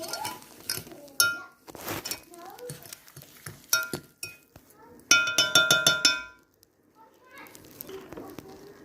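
Sugar being mixed into banana nut muffin batter in a bowl, a run of bright clinks and scrapes of a utensil against the bowl, with a quick rhythmic rattling stretch midway and a person speaking between strokes.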